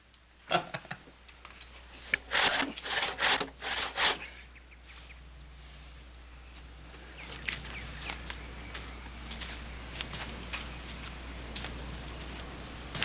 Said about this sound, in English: It looks like wood. It feels like wood. But it saws like iron.